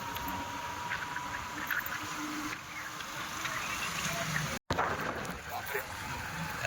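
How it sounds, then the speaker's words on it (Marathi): Rain falls steadily outdoors in a village setting, making a constant hissing patter that stays even throughout, broken only by a brief dropout near the end. "पाऊस आलेला आहे अशा तऱ्हेने"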